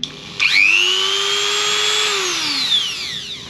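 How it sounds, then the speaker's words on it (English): A Dremel rotary tool spins up to a high, steady whine aboard a sailboat, holds its pitch for about two seconds, then slows and winds down, close and fairly loud. "And Dremel."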